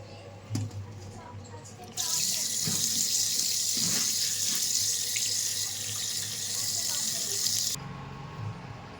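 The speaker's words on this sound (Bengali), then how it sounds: "তো চলুন এখন চালটা ধুয়ে নিই।" Tap water runs steadily into a sink while rice is washed in a basket, a loud continuous hiss with some clattering and handling noises underneath, starting abruptly and cutting off near the end.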